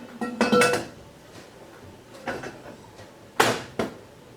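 Metal lid of a pressure canner being lined up and set on the pot during beet canning, a few close clanks and scrapes spaced irregularly with quiet gaps between.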